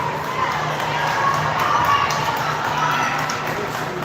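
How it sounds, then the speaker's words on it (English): Parents of the Sparks team cheer at a youth girls' 14AA ice hockey game in an arena, making a steady, moderately loud wash of crowd noise and shouts throughout. "Lots of cheering and from the Sparks parents here next to me."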